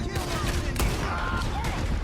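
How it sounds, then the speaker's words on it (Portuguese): A single sharp gunshot in Red Dead Redemption 2 cracks out mid-clip over a steady background of game ambience and a low rumble. "De novo, dei um tiro por cima do ombro do Charles"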